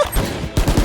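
Judge shotgun blasts in the shooter Valorant, several quick booming shots in a rapid cluster, loud and close within a brief burst.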